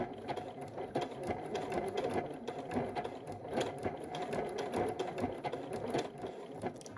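A sewing machine runs at close range, sewing a blanket stitch around an appliqué fabric heart backed with interfacing. It makes a continuous rapid mechanical chatter with slight changes in speed and no talk.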